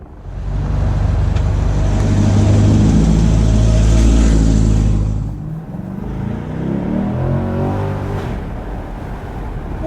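A 2020 Corvette Stingray accelerates hard, its engine roaring loud and rising in pitch for several seconds before easing off and dropping to a quieter, lower running note.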